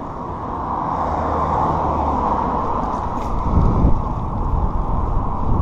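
A train rumbles past as a broad, steady low roar with a slight swell in loudness midway, continuous and fairly close, no voices over it.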